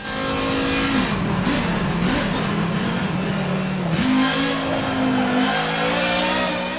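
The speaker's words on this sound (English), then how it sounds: "You hear that turbocharger." An Audi race car's turbocharged engine roars in Forza Motorsport 7, sustained loud revving that dips and climbs through gear changes, close and steady with no voices.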